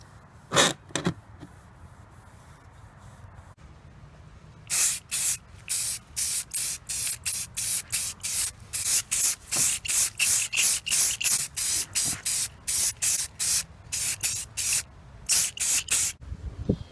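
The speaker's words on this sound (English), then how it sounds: "When you're painting, make sure you don't spray in a fan pattern" Short bursts of spray hiss from an aerosol can painting a BMW Z3 kidney grill, starting with two brief puffs, then many rapid, evenly paced sprays close by, no talking.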